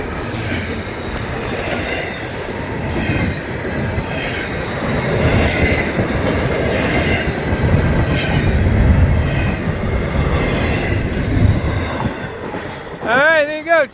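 Florida East Coast Railway freight train 105 rolls steadily past close by, a long continuous rumble of railcars with clattering wheels and faint squeals, ending with a brief rising tonal whine at the very end.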